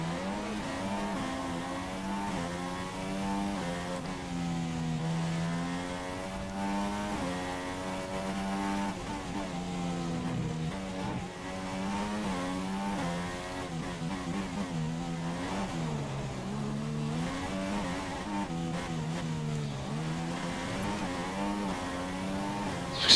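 An F1 race car engine on a qualifying lap at Monaco in the game F1 2016, a continuous high-pitched screaming drone that rises and falls through gear changes and throttle lifts for the whole stretch.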